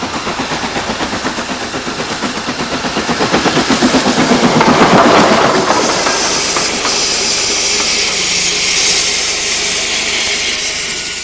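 An old train at a heritage railway station makes a loud, rhythmic chugging that builds up, then settles into a steady, broad hiss. No one speaks.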